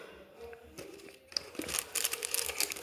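Packets of tea bags, orange and chamomile among them, handled close up, giving soft crinkling and rustling of paper wrappers that grows louder and busier toward the end, with a voice speaking nearby.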